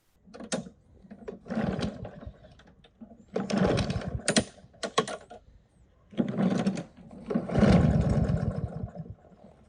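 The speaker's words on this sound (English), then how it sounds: "Let's try and start with the mower and see if it starts easier." Poulan Pro push mower engine being pull-started after servicing: repeated loud rope-pull bursts of cranking, each lasting about a second, with short pauses between attempts and no steady idle.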